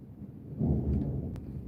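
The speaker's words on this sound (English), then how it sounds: "Man, that storm, man." Thunder from a storm, a soft rumble that swells after a quiet start and rolls on low and fairly distant, with a brief sharp crackle near the end.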